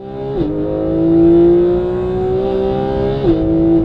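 A Porsche 991.2 GT3 engine drones loudly and close on a track, holding a steady pitch with two quick gear-shift dips and gentle rises in revs.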